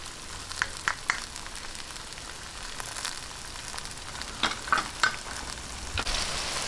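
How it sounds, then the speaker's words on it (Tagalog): Tomatoes sautéing in a pan for a Filipino menudo, a soft continuous sizzle with scattered clicks and scrapes of a spoon stirring, close and fairly quiet. "Hayaan lang po nating magisang-gisa yung kamatis"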